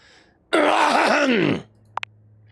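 A single drawn-out, groaning throat clearing in a video game lasting about a second, loud and close, followed by two tiny clicks in near silence.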